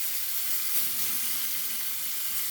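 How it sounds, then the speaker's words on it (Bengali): Potatoes fry in a pan with turmeric and green chilli, giving a steady, close, even sizzle that holds without a break and no voices. "আলুটা ভেজে নিচ্ছি, একটু হলুদ দিলাম, দিয়ে দিচ্ছি কাঁচামরিচ"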